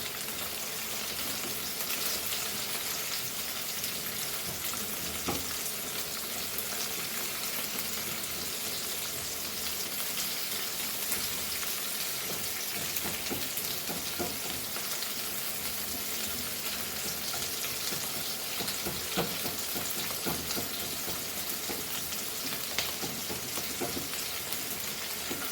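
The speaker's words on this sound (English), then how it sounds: "Fry this nicely." Something fries in a pan during a traditional Goan okra amsol cook, a dense unbroken sizzle and crackle at even loudness throughout, with light pops scattered across it and no voices.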